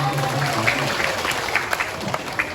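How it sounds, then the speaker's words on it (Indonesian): A crowd watching a comic Balinese drama gong performance at an arts festival applauds, a brief dense burst of clapping with a few sharper claps standing out and faint voices underneath. "Penonton ternyata luar biasa, tepuk tangan dengan itu."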